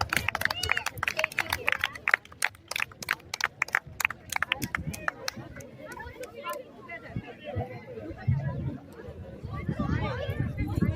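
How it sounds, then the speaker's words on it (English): An audience at an Indian school sports meet applauds students' flower drill display, bursts of clapping strongest at first and then thinning out, mixed with crowd chatter and talking voices. "So give them a big round of applause"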